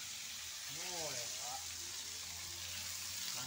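Food frying in yellow sambal, with a steady faint sizzle and hiss throughout and a brief voice partway through.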